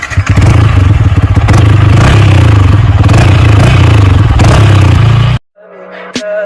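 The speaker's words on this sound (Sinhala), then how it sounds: "මම බයික් එක පොඩ්ඩක් ස්ටාර්ට් කරලා පෙන්නන්නම් කොහොමද බයික් එකේ සවුන්ඩ් එක කියලා" A Yamaha R15 v3 motorcycle engine runs loud and close with a steady low exhaust note and some clatter for about five seconds, then cuts off abruptly into near silence with a brief faint noise.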